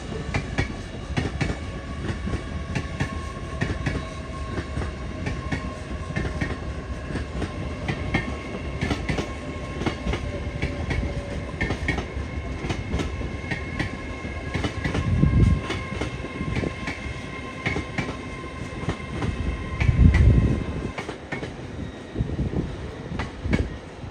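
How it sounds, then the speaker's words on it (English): LNER Azuma unit 801221 pulls into Peterborough station on the East Coast Main Line, a steady rolling rumble with rhythmic wheel clicks and a couple of louder thumps as carriages pass close by. "now coming in is another LNER Azuma going to London King's Cross, this one being 801221"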